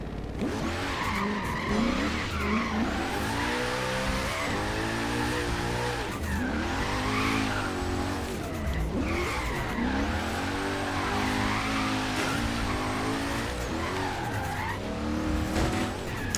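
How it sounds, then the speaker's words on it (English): Car drifting in the video game Forza Horizon 3, a loud sustained engine roar with repeated long tire squeals and skids, revs rising and falling as the car slides, no talk. "Gotta keep some random drifts going."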